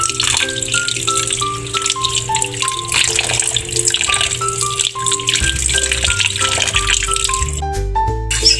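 Squid being washed under a running tap, a steady gush of water splashing throughout, with music playing over it and no speech.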